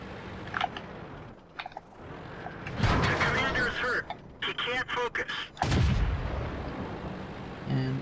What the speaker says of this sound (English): Actually bounced the shell there.